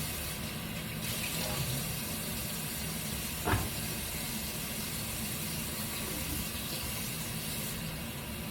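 Water runs steadily from a kitchen tap while beans are rinsed for a pot, a continuous close hiss and splash with a brief clatter midway and no talking.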